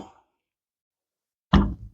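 A large ice cube falls into a glass for an Old Fashioned cocktail, giving one sharp close clink and a short rattling settle after a near-silent pause.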